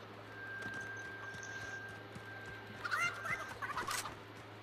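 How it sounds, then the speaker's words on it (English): Fowl sound in a video game, a short burst of clucking, gobbling calls toward the end over a steady low hum, moderately close and faint, with no talk. "Oh god, a chicken."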